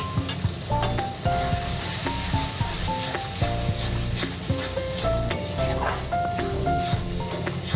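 Spices frying with tomato paste in a pan for a chickpea dish, stirred vigorously: a continuous dense sizzle with rough scraping strokes and tonal clinks of the utensil against the pan, close and fairly loud, no voices.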